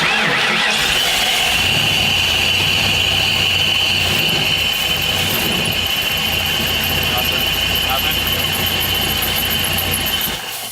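Small engine on a mobile STEM lab with fuel problems runs steadily and loud with a high whine, its throttle feathered to keep it alive, then cuts out near the end; people talk over it.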